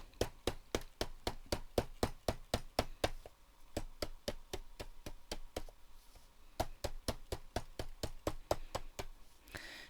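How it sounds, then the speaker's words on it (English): A meat tenderizer bashes the edges of book pages, a fast, even series of sharp knocks heard close, with a short pause in the middle before the rapid blows resume. "I'm going to start by bashing them with this meat tenderizer, and this will start to distress the edges."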